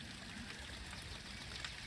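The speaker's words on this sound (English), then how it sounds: "There's the overflow, all the water that comes down from the hills, from the Taunus mountain regions." Overflow water runs down from the Taunus hills in a steady, faint rushing trickle, with no voices.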